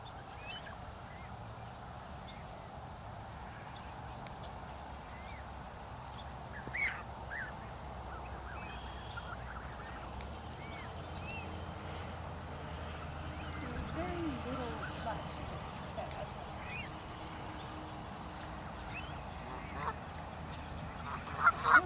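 Geese honk in scattered short calls while chasing each other outdoors, faint and somewhat distant over a low, steady background murmur, with a few louder bursts along the way.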